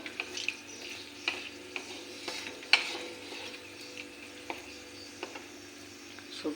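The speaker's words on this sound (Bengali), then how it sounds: "শুকনো লঙ্কা তেজপাতাটা ভাজা ভাজা করে তেজপাতা শুকনো লঙ্কাটা ভাজা ভাজা হয়ে গেছে" Dried chilli and bay leaf fry in mustard oil with a quiet, low crackle, broken by soft, irregular clicks and scrapes of stirring in the pan.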